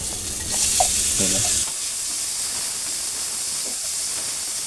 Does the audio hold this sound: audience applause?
no